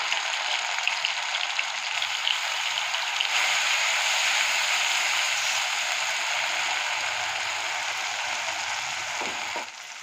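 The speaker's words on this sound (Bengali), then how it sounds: "পেঁয়াজ আদা রসুনটা ভাজা ভাজা হয়ে গেছে" Onion, ginger and garlic paste frying in oil in a pan, giving a continuous close hiss and fine crackle that holds steady, then eases slightly toward the end.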